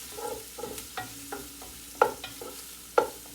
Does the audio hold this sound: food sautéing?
yes